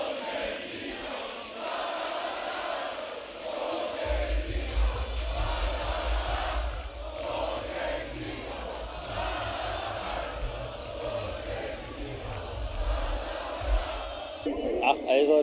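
Football fans in the Berlin fan zone at Euro 2024 roar and chant as a crowd, a dense, loud swell with deep rumbling from about four seconds on, while people talk nearby.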